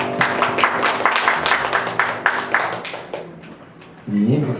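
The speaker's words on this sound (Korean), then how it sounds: "주님께 영광의 박수 올려드립시다" A congregation claps at a Sunday church worship service, a steady run of rhythmic hand claps that fades toward the end as a voice comes in.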